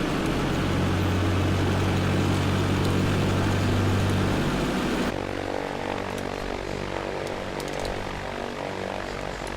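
Propeller aircraft engine taxiing in Flight Simulator X, a loud continuous droning hum with a steady low tone that shifts to a different engine pitch partway through.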